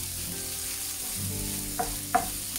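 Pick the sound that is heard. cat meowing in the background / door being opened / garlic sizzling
garlic sizzling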